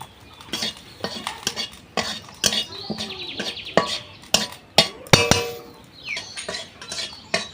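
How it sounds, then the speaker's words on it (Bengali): Cumin seeds dry roasting in a dry pan, with repeated sharp metallic scrapes and clinks of a utensil against the pan in an uneven rhythm, close and fairly loud. "শুকনো কড়াইতে জিরে কটা ভেজে নেব"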